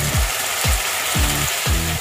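A spice paste for Bengali tilapia curry sizzles and fries in oil, loud and close, with a rhythmic stir or scrape roughly every half second and no voices.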